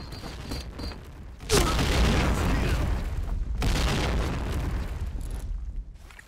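A small bomb bursts in a video game, a sudden loud boom followed by a second blast and rumbling crackle, rising out of quieter game noise.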